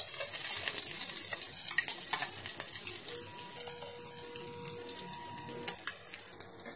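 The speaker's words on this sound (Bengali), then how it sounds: "ক্যাপসিকামগুলো দিয়ে দেবো, একটু ভেজে নেব।" Capsicums frying in white oil in a frying pan, a soft crackling sizzle with scraping stir noises and faint clinks, the sizzle thinning out over the few seconds.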